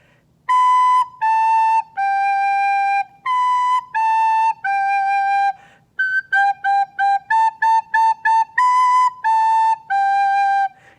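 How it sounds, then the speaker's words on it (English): A soprano recorder, played with flat fingers that seal the holes, gives a clean rendition of Hot Cross Buns: three-note phrases of steady, pure tones, then a run of quick repeated notes, and the tune returns at the end. "This would be hot cross buns played correctly with flat fingers."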